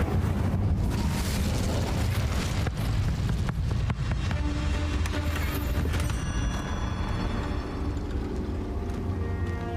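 In Hogwarts Legacy, the Incendio fire spell roars out as a loud, sustained whoosh of rushing flame with rumbling low-end bursts, fading into a crackling hiss over several seconds.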